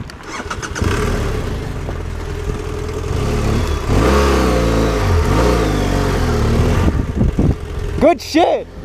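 A Subaru driven fast on an offroad mountain trail at Santiago Peak, its engine revving and surging loudly and continuously up close, with excited voices shouting over the engine noise.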